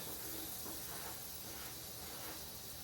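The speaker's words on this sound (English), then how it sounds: "They're nice and hot, nice and sizzling." Butter hissing and sizzling in hot crêpe pans, a soft, steady frying hiss heard close up and alone, with slight swells as it bubbles.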